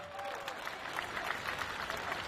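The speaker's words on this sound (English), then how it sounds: "please, one final round of applause for OKN" An audience gives a final round of applause after a round of a youth academy competition, a fairly quiet, even patter of many hands heard at some distance, without talk.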